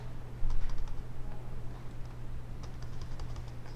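Light keystrokes on a computer keyboard, including Alt and Enter presses, tap in short scattered bursts over a steady low hum, close and fairly faint.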